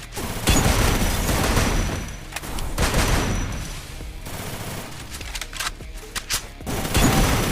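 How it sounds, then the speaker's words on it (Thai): Rapid gunfire in the Free Fire video game, dense sustained bursts of automatic shots near and loud, with brief gaps between volleys and no talk over them. "ผมยิงไปเยอะมากเลยนะเมื่อกี้"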